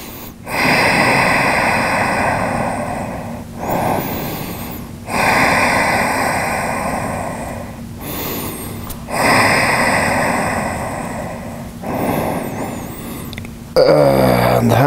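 Deep, slow breathing during lower back stretches, repeated long rushing inhales and exhales close to the microphone, each lasting a few seconds and separated by brief pauses, with no talking.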